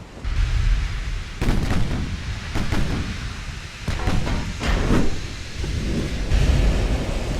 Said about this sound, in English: 18-inch guns are engaging the cruisers